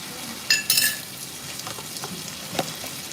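Thai curry paste and pork being stir-fried in a pan, a burst of loud sizzling near the start settling into quieter crackling with occasional spatula scrapes and stirring clatter.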